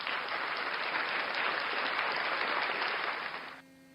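A small group claps steadily in dense, even applause for about three and a half seconds before it stops abruptly.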